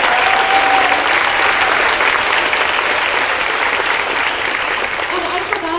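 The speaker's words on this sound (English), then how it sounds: "So could we give a round of applause," Sustained audience applause at a high school spring pops concert, a dense, steady wash of many hands clapping that fills the whole stretch and tapers only slightly toward the end.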